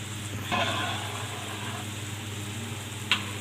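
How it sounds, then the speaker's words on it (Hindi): Jaggery syrup simmering in a pot on the stove, a soft continuous bubbling sizzle with a couple of brief clinks, heard fairly quietly and without speech. "दूसरी तरफ हमारा देखें शीरा पक रहा है"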